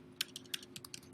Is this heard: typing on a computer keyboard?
yes